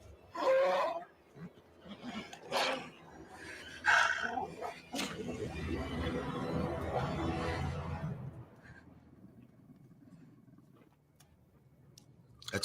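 Nymeria, a huge dog-like direwolf from Game of Thrones, gives a few short yips and whimpering barks early on, then panting-like breaths fade under overlapping talk.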